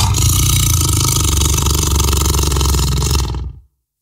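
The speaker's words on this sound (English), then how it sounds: "Tiger." A tiger roars loudly and close for about three and a half seconds, a continuous rough growl that cuts off abruptly at the end.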